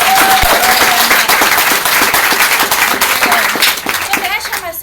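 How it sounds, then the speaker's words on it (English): An indoor audience applauds loudly and continuously. Clapping is dense and close and fades slightly near the end. "I think you guys deserve a round of applause for being here"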